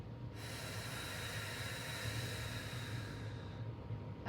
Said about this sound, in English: So you're going to inhale, fill all those spaces, exhale